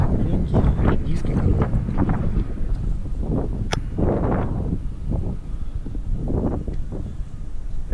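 Wind buffets the microphone outdoors beside a Mercedes-Benz Actros 1845 truck, loud irregular low rumbling gusts filling the whole stretch without pause.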